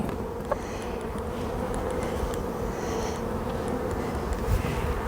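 Honeybees buzz around an open hive, a dense, steady drone that holds for the whole stretch with no talking.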